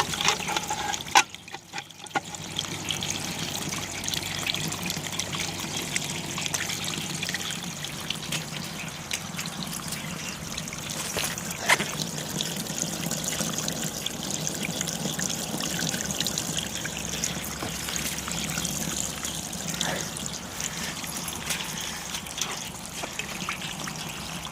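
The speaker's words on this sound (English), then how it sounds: "some of the unstrained water leaks into the trough" Unstrained creek water leaks and trickles into a trough beside a prototype self-cleaning irrigation intake strainer, a steady close splashing dribble running throughout with a few brief louder spatters and no talk.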